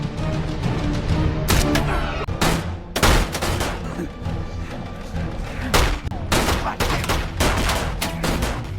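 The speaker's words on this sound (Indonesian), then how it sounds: "baku tembak jarak jauh pun terjadi" Bursts of long-range gunfire crack out in a film action scene, with rapid volleys and single sharp shots scattered over a rumbling background, some loud and close, others trailing off.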